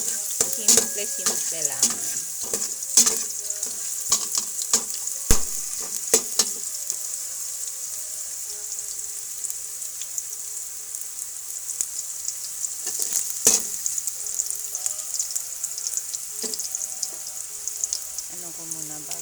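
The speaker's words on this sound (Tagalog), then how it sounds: "Gisa ko muna yung luya." Ginger sautéing in a pan on a provincial stove, a steady close sizzle with scattered clinks and stirring scrapes, a short spoken phrase near the start.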